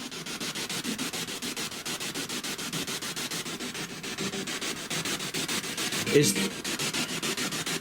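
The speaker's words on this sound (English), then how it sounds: "Use the noise frequency, the white noise." Steady hissing spirit box white noise static with a rapid, pulsing sweep running through it, continuous and fairly loud, with a brief burst partway through, inside a former orphanage at night.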